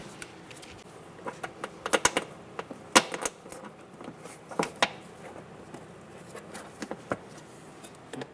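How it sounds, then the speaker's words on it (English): Plastic clips are pressed back into place on the hood release handle of a 2007-2012 Nissan Altima, making sharp, close plastic clicks and snaps in irregular bursts over a quiet background. "Reinstall the clips."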